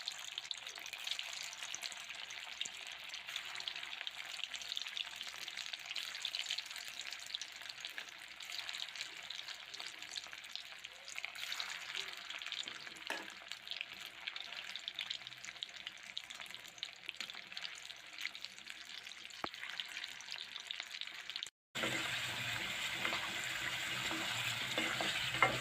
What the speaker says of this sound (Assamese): এনেকৈ মই বাকী থকা বলকেইটা ভাজি লৈছোঁ,